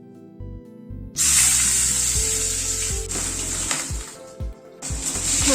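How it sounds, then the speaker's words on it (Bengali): Fish coated in salt and turmeric frying in hot mustard oil in a wok, a loud steady sizzle and spatter starting after a second of quiet, with brief dips and low clatter of handling. "তেলটা গরম হয়ে এসছে, মাছগুলো ছেড়ে দিচ্ছি।"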